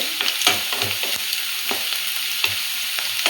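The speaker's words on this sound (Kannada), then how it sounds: "ಇವಾಗ ಈರುಳ್ಳಿ ಬೇಯ್ತಾ ಇದೆ." Onions frying in a pan for a village-style egg masala: a steady bright sizzle broken by frequent close scraping and tapping stirs, with no talking.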